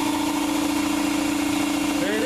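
A shop air compressor, freshly fitted with a new pressure switch, runs steadily with a loud, even motor hum and vibration throughout, close by and with no talk over it.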